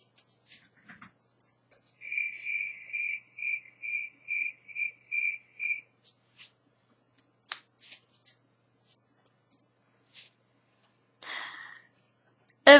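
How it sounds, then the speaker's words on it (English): Crickets chirp in a steady run of about a dozen bright, evenly spaced pulses, then fall silent; a few faint clicks and rustles follow, with no talking. "Don't know if you can hear those crickets in the background"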